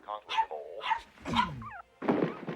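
Small dog yapping in a scene from the horror comedy C.H.U.D. II, several sharp barks in quick succession with voices talking between them.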